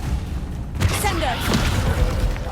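Spell effect for the Ascendo levitation charm in the Hogwarts Legacy video game, a sudden magical whoosh and burst with a low boom, loud and near, swelling over steady game ambience.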